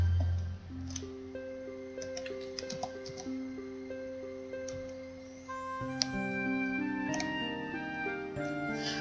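Computer keyboard keys typed softly during play of a free-to-play MMORPG, a scatter of quiet, close clicks under steady game music.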